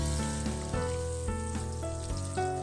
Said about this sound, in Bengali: তো এখানে আমি ফুলকপিটাও ভেজে নেব।